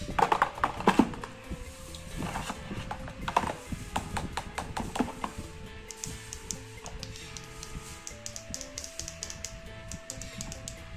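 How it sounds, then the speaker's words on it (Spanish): Firm buttons on a motorcycle GPS display screen are pressed again and again, giving a close series of crisp clicks and taps in an irregular rhythm, with no talking. "escuchen la firmeza de estos botones"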